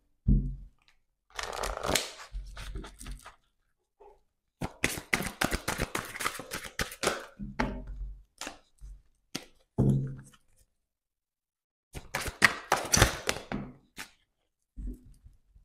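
Oracle cards are shuffled and drawn by hand, giving several bursts of papery riffling and soft slaps and taps, separated by short silent pauses, close and fairly quiet with no speech.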